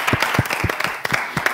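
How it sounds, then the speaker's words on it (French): An audience applauding, a short burst of several distinct claps in an uneven rhythm, close and fairly loud, with no talking over it. "Vous pouvez vous applaudir vous-même."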